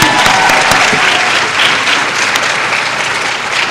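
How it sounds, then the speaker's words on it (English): A pageant crowd at the Miss Wrenicycle event claps for its directors, a loud, sustained wash of many hands that eases slightly toward the end without any talking. "Please let's give the Chapmans a round of applause."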